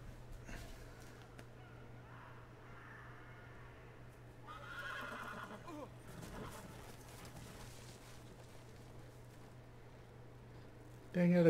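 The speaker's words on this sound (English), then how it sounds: "Dang it, I just got that horse." A horse neighs in Telltale's Game of Thrones video game, a clear whinny over steady low game ambience, with hoof clip-clops and a sharp louder burst at the end.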